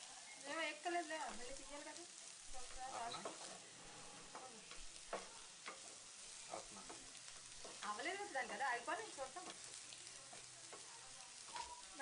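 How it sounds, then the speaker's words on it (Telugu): Chili powder fries in a pan with a soft, steady sizzle, while a spoon scrapes and stirs in uneven bursts close by, fairly faint overall, with faint voice sounds at moments. "కారం వేసుకుని ఒక్కసారి పచ్చివాసన పోయే వరకు 2 నిమిషాలు బాగా ఫ్రై చేసుకోవాలి."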